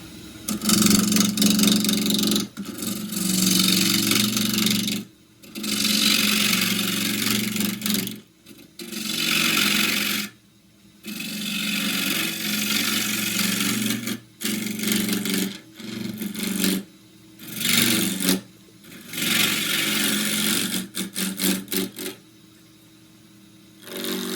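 Tiger myrtle blank turning on a wood lathe, cut with a half-inch spindle gouge, gives a loud steady whirring hum broken by short pauses and recurring cuts, with no talk.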